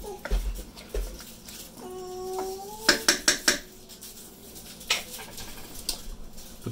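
Zuppa Toscana soup stirred in a crockpot, with a spoon clinking and scraping against the pot in a quick burst of a few close knocks among softer stirring sounds.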